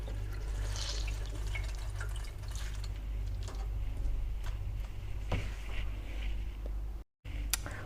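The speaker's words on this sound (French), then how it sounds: "Faut bien écouter l'eau." Water runs and drips steadily in a kitchen while buckwheat noodles are prepared, a close, continuous trickle with small splashes and a low hum beneath, briefly cut off near the end.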